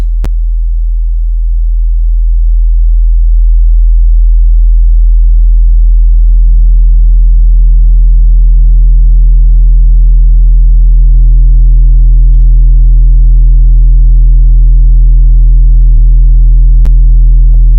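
A steady low sine tone hums continuously, gradually gaining a buzzy edge as stacked overtones from analog clipping distortion build up with increased drive; no talking.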